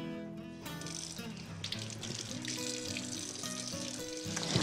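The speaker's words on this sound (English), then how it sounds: "Rinse it off." A rubber cushion from a Multi-Pure water filter housing rinsed under a running tap, a steady hissing gush of water with splashing, close and moderately loud, no talking.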